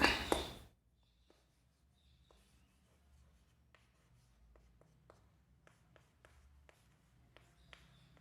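Pen or marker writing on a board after a brief loud burst at the start, then a quiet sequence of light taps and short scratchy strokes spaced irregularly, close and isolated.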